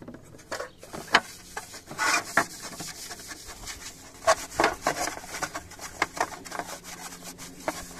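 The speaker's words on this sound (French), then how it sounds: "Passe un petit coup de chiffon." Cloth rubbing and wiping over a disassembled home ventilation unit (VMC) during cleaning, producing soft scrubbing and rasping strokes in irregular bursts, close and moderately loud with no talking.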